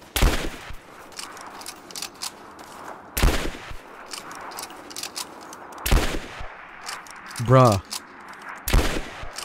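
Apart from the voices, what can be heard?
gunfire from the video game Rise of the Tomb Raider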